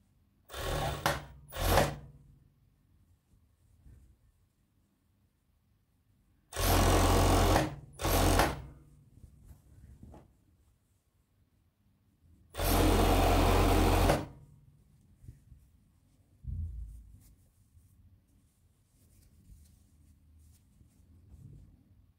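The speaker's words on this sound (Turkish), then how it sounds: "Öncelikle yanlardan eşortmanımızı dikiyoruz." A sewing machine stitches tracksuit side seams in several loud, buzzing bursts of one to two seconds each, separated by quiet pauses and faint handling of the fabric.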